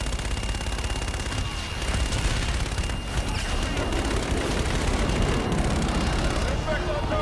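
Continuous rumbling gunfire and strike barrage in the sci-fi shooter game Call of Duty: Infinite Warfare, a dense loud roar of fire and blasts running steadily throughout with radio chatter mixed in.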